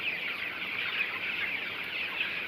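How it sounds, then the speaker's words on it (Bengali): Broiler chickens in a poultry shed cluck and squabble nonstop as they jostle and crowd each other, a dense, steady chorus of many birds close by with no talking. "মুরগির ভিতরে মারামারিও করতেছে, ঠেলাঠেলি করে"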